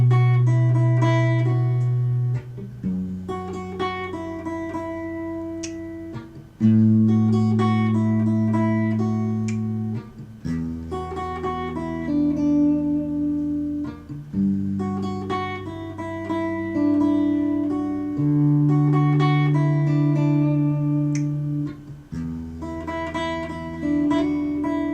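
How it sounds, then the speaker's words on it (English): A solo guitar plays a slow melody over moving bass notes, clear and close, with sustained plucked notes changing every couple of seconds and no talking. "if I throw in the bass notes, not the chords themselves, but just the bass notes while playing that melody, it would sound something like this"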